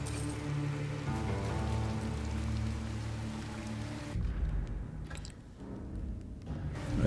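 A heavy downpour roars in the video game Ghost of Yotei, dense and steady over a low rumbling music bed, thinning midway and then swelling again toward the end.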